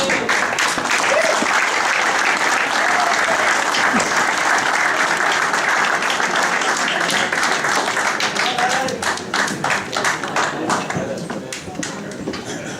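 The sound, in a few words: audience applause at a gala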